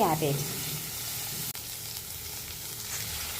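Vegetables with freshly added carrot sizzle and fry in a pan while being stirred, a steady close hiss with a brief clatter near the start.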